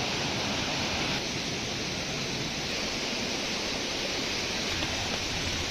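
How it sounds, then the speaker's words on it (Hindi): A waterfall near Muktinath temple in Mustang, Nepal, roars as a steady, dense, broadband rush of falling water, loud and unbroken throughout with no voices. "ये पानी का फॉल है वो नीचे जा रहा है।"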